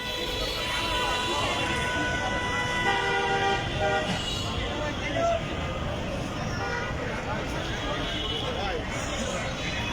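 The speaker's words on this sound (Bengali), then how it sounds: "তীব্র যানজট লেগে গেছে।" Heavy traffic jam on Tongi station road near a broken Ijtema gate, with repeated car horns honking over a dense rumble of vehicles and voices talking throughout.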